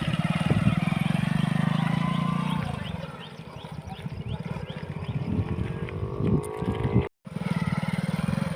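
A motorcycle engine runs steadily and fairly close, with a low droning hum that fades partway through, dips out briefly near the end, then returns, while wind noise and a few voices talk over it.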